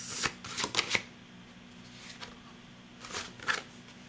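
Oracle cards being shuffled by hand: a few quick papery riffling bursts, close and fairly quiet, separated by brief pauses with a faint low hum underneath.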